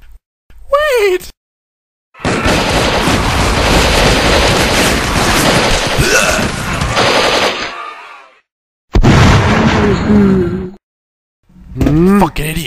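Long, loud machine-gun bursts from a Garry's Mod game rattle continuously for several seconds, with voices before and after the shooting.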